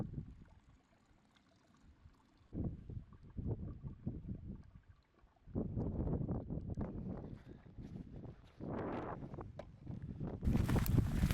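Gusty wind buffets the microphone outdoors on a rainy hike along the Offa's Dyke Path, swelling in rough surges and dropping back, with a brief rustle at the end.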